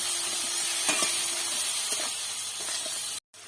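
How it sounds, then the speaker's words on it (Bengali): Spices with cumin powder, chilli and salt being sautéed with paneer in a pan for a mustard-poppy seed curry, giving a steady hiss and sizzle with faint scraping stirs, close and continuous until a brief cut near the end. "খুব ভালো করে কষিয়ে নেব"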